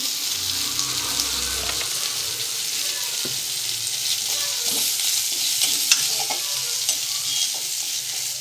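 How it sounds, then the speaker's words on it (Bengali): Neem leaves fry in oil in a home kitchen pan, giving a steady, close sizzle with soft stirring scrapes and light clinks throughout, with no talking. "নিম পাতাটা দিয়ে খুব ভালো করে ভেজে নেব আরও একটু লাগবে তেল তো তেলটা দিয়ে দিচ্ছি"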